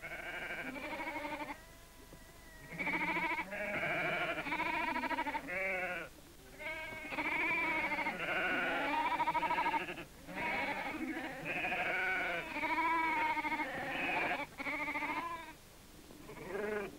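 Sheep and lambs on the Faroe Islands bleat loudly and almost continuously while being given medicine, several animals calling over one another at close range.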